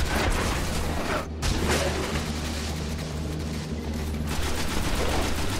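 Sustained rapid gunfire in the Destiny video game, a dense, continuous barrage of shots with a brief lull and a steady low rumble underneath, loud and close throughout.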